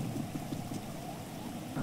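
Rain falls steadily in the video game GTA 5, a soft, constant hiss with a low rumble beneath it, faint and unbroken throughout.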